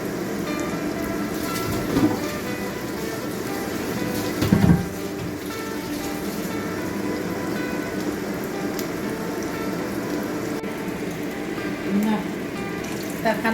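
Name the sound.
frying salted fish with sugar in a pan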